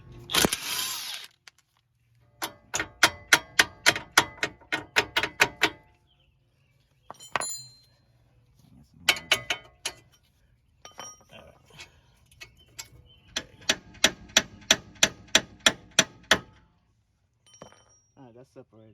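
Rapid bursts of a power ratchet or impact tool working the 15 mm ball joint bolt on a Ford Fiesta front suspension, several sharp chattering runs separated by short pauses, close and loud, with brief quiet gaps between.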